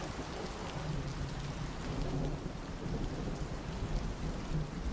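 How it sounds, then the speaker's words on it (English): Steady rain falls without pause, a dense, even hiss of drops at moderate volume with a faint low rumble underneath and no voices. "keep listening to the rain"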